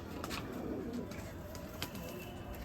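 Pigeons coo softly around a rooftop loft in a Punjabi village, a low steady murmur of several birds at moderate distance with faint chirps scattered over a constant background hum.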